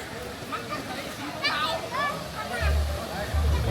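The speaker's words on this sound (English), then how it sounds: "With just a little bit of the waterfall here." Water from a waterfall rushes steadily in the background on the Ha Giang Loop in Vietnam, a soft continuous wash heard beneath a person talking, with a low rumble growing toward the end.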